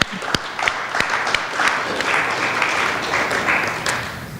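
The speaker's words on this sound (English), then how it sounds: "Let's give them a round of applause" Audience applause at a solar industry talk, a steady wash of clapping from a crowd lasting several seconds with a few sharper individual claps near the start, fairly loud and even throughout.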